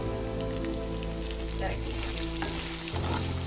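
Chicken frying in a pan with masala and onions, a dense, loud, continuous sizzle with occasional stirring scrapes and crackles throughout.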